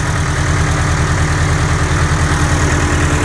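A Case IH diesel engine that has been sitting idles loud and close with a rough, uneven low throb from a misfire, steady throughout with no talk.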